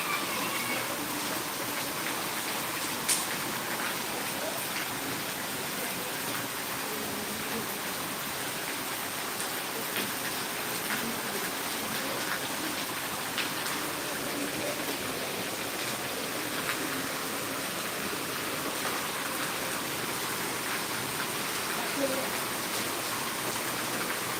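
Sudden rain falls in Karad, Maharashtra, on a day of alternating sun and showers, a steady, even hiss of drops on surfaces that continues unbroken with no voices.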